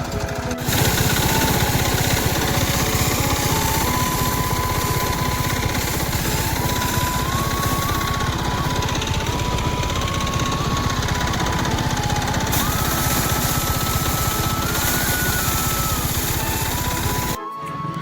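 A motorized paddy threshing machine runs continuously, a loud steady engine drone with rattling mechanical clatter throughout, cutting off abruptly at the end.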